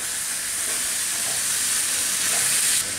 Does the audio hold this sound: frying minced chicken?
yes